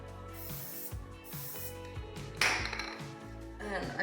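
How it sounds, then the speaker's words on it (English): Hairspray hisses from an aerosol can in short bursts while hair is being styled for volume, the spray mixed with rustling and clicking of handling noises close by. "Okay, so we're gonna spray it again."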